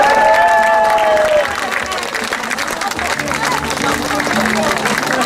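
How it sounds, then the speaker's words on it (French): Outdoor audience at an anti-pass protest rally in Toulon applauding a singer, loud sustained clapping and crowd noise throughout, with a brief sung or tonal voice early on. "vous pouvez vous applaudir très fort aussi"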